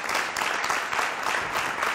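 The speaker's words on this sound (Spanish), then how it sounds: "Un aplauso para él." A studio audience claps in a brief, steady burst of applause, fairly close and continuous for two seconds without speech.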